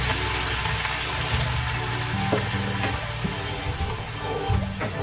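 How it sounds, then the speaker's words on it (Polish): Semi-sweet white wine, about 100 ml, hits a pan of frying onion and garlic for a carp fillet sauce, producing a steady close sizzle with soft bubbling and faint stirring. "Teraz dodam 100 ml wina białego, u mnie półsłodkie"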